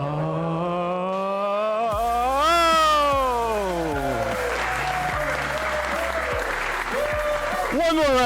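A crowd at an esports LAN championship, Championship Sunday of MCS Season 10, builds noisy applause and cheering for the trophy lift, mixed with a rising, wavering vocal cheer from a voice.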